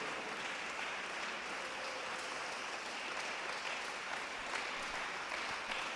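Church congregation applauding during an evening worship service, a dense, steady wash of many hands clapping that holds at an even level for the whole stretch with no voices on top.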